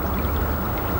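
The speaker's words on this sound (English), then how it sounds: "There's a little creek." A small creek flows at night outdoors, a close, continuous rushing and gurgling of water that stays loud and even throughout.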